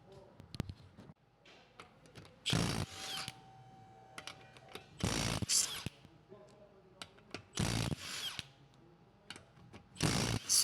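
A ratchet works on the rear wheel lug nuts of a 2015–2019 Subaru Outback, with several short bursts of rapid clicking separated by quiet gaps and small clanks.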